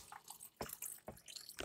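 Hot chocolate pours and drips into a cup in a home kitchen, a short run of faint liquid drips and splashes with a few distinct drops, close by and quiet, with no voices.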